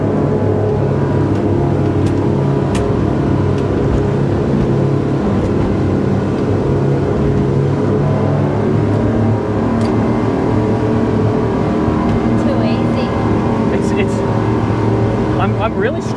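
A loud engine roars close by with a steady, rough drone, rising slightly as the boat speeds up, with wind and water noise throughout.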